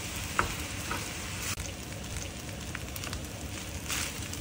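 Shrimp and cold cooked rice stir-fry in a pot, giving a steady close sizzle and crackle with a few sharp scraping taps as the rice is broken apart and tossed.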